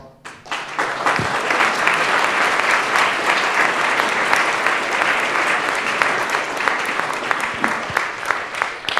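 Sustained audience applause fills the room after a special physics colloquium on swirls from the Big Bang, a dense steady clapping that starts at once and holds at full strength for the whole stretch, with no talk over it.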